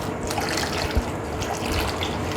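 Water being poured into a stone cooking pot of yam and raw banana for Onam kurukku kaalan, a soft, continuous trickling and splashing stream, fairly quiet and close, with no talk.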